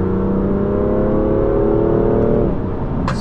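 A BMW with a dual-clutch DCT gearbox accelerates hard, its engine note climbing steadily and loudly before a sharp drop in pitch at a quick gear change near the end.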